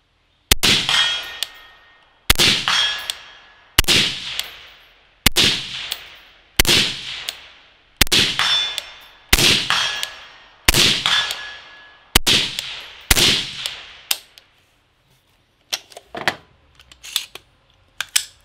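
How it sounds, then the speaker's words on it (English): About a dozen sharp metallic clangs from suppressed 7.62 rifle shots hitting a steel target, evenly spaced a second or so apart, each a muted crack then a ringing steel ping, then a few fainter knocks. "some of the shots are going to be on the steel, some are going to be off"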